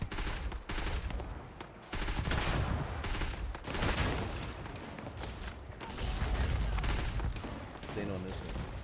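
Heavy sustained gunfire from a space battle in Starfield, dense rattling bursts with brief gaps, loud and continuous throughout.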